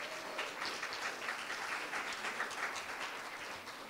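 An audience applauds young leaders at a school board district candidate forum, a steady wash of many hands clapping at a moderate distance, heard alone for a few seconds.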